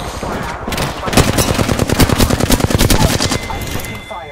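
Rapid automatic gunfire in the Apex Legends battle royale: a loud, close, sustained burst of evenly spaced shots that runs for about three seconds before tapering off.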